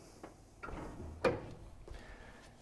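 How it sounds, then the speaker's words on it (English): A MIWE go baking oven door swings shut with a single firm thud near the middle, preceded by softer handling knocks and followed by a faint latch tap, close by with no talking. "Now, as soon as I shut the door,"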